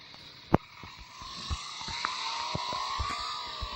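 Car driving in the PUBG Mobile video game, a steady engine drone rising in pitch as it speeds up, broken by scattered bumps and knocks and one sharp thud early on.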